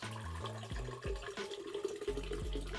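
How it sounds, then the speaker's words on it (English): Water pours steadily into a 64-ounce insulated water bottle, a continuous gurgling fill with shifting pitch as the vessel fills, close and fairly loud. "take some of the water I got in here, pour it in here, let you guys see me pour it in"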